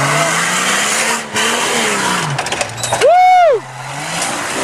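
A Jeep crawling up an obstacle at a Toys for Tots off-road event at Haspin Acres, its engine roaring and revving hard with rising and falling pitch, a sharp high whining surge near the end, and a voice cheering over it.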